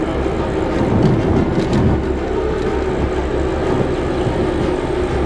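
Steady wind roar and tire hum from a Trek Marlin 6 mountain bike coasting on a paved road at about 23 mph, a continuous loud rush with no pedaling or talk.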